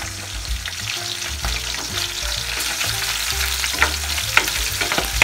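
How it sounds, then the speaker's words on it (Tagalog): Garlic sautéing in a pan for okra sisig, a steady sizzle and crackle with occasional stirring scrapes, close and continuous with no talk. "Nagigisa lang naman."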